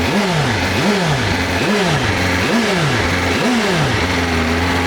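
A 2024 BMW M1000RR motorcycle fitted with an Akrapovic exhaust, revved repeatedly in loud, close blips with a steady rhythm that rise and fall over idle, then holds a higher steady pitch at the end.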